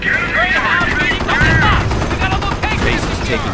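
Gunfire in the World War II strategy game Company of Heroes, a steady loud clatter of shots under a dense battle din, with voices calling out over it.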